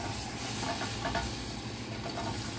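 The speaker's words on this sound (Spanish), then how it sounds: "Vamos a agregarle inmediatamente la harina para hacer un roux" Flour stirred into melted butter in a pan to make a roux, giving a steady close sizzle and hiss with soft scraping stir strokes throughout.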